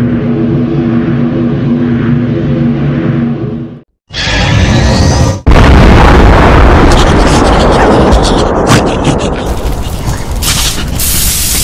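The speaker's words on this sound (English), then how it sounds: "Incoming dropship, Brilliant Gift." Game-style sound effect of a Halo dropship approaching, a steady low roaring engine drone, a brief gap, then a loud boom into a dense, rumbling roar with metallic clatter.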